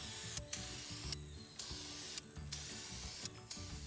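A spray can lays gloss clearcoat onto heavily oxidized car paint in four distinct hissing bursts, each about half a second long, separated by short pauses, close and fairly loud.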